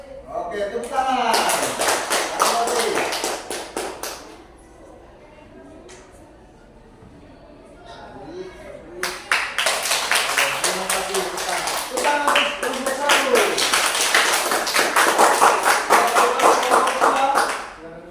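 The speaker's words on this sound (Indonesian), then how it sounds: "Oke, tepuk tangan." Two rounds of loud group hand clapping by students in a physical education class at a teacher-training program, the second one long and sustained, with a quieter gap of voices between them.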